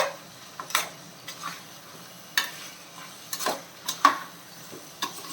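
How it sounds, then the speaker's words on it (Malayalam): A spoon scrapes and clinks irregularly against a pan while chicken perattu is stirred, over a faint, steady sizzle. "അതും കൂടെ ചേർത്തിട്ടൊന്ന് ഇളക്കാം"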